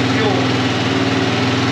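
Small engine running steadily at a fast idle, a loud, close, continuous droning hum with a smooth, even rhythm and no pauses, heard alone without voices.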